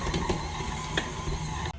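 A stand mixer blends cold butter into dry ingredients, a steady motor whir with light mechanical rattling and a faint repetitive knock, close and moderately loud, cutting off abruptly near the end.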